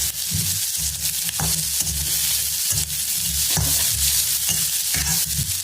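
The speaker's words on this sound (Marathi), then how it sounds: "गॅसवर मिडियम गॅसवरती भाजून घ्यायच्या" Green chillies roast in a pan over a medium gas flame, with a steady sizzle broken by repeated scraping and stirring knocks of a utensil against the pan, close and fairly loud.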